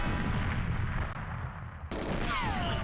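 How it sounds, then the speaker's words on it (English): A rocket launcher blast in GoldenEye 007 (1997) for the Nintendo 64 gives a sustained, loud booming roar that dips briefly, then resumes alongside a rising, whistling tone, with no speech. "I guess that guy has a rocket launcher."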